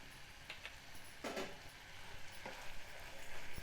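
Green chili paste sizzles as it goes into a pan of frying broad beans, a soft, quiet crackle with a few stirring scrapes and a louder burst of sizzling near the start.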